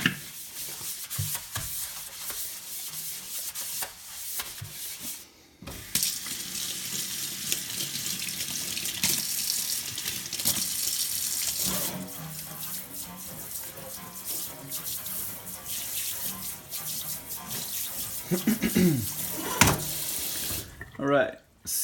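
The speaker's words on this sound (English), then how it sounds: "it's actually a good idea to clean your sink real quick before you do this" Tap water runs steadily into a sink during cleaning, with rubbing and scrubbing sounds and a few brief pauses in the flow, close and fairly loud throughout.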